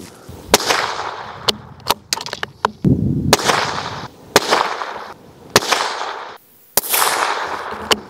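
A Tikka T1X rifle fires a group of rounds at a range: a series of sharp, loud cracks, irregularly spaced, each followed by a brief rolling echo outdoors.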